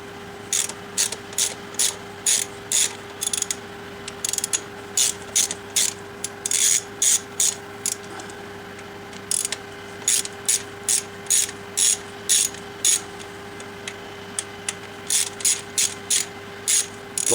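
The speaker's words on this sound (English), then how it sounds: "All I need to do is take off, hopefully, the 4 bolts." Rapid ratchet clicks in repeated bursts as a wrench backs out the bolts on a 1972 Corvette intake manifold, close and clear with short pauses between strokes, over a steady low hum and no talking.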